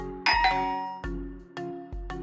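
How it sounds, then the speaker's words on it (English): A doorbell chimes several times in a quiet home at night, a first two-tone ding-dong followed by three more single rings at a steady pace, each one clear and ringing out alone. "the doorbell rang."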